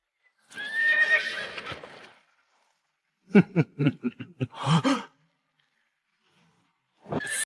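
War horses whinny loudly in a long, shaky neigh, followed by a burst of rapid snorting whinnies and a brief final call, with quiet gaps between.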